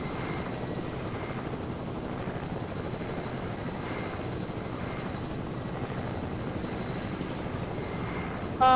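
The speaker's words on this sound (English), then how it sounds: "I have the best spot watching the chopper" A helicopter in Fortnite thrums steadily and loudly throughout, its constant rotor drone unbroken by any speech.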